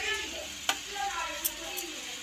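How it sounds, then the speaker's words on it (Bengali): Chunks of gourd coated in spices are stirred in a frying pan, with a soft sizzle under sharp clacks of the spoon against the pan, quiet and close. "মশলা দিয়ে আমি ভালো করে এটাকে নাড়িয়ে চাড়িয়ে মিলিয়ে নিয়েছি মশলা দিয়ে লাউটাকে।"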